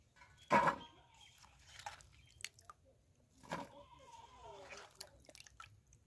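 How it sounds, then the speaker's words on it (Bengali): Water splashes and drips quietly and intermittently as cut cauliflower florets are washed by hand, with a louder splash near the start and a brief voice in the background. "আমি ভালো করে ধুয়ে নেব ফুলকপিগুলো"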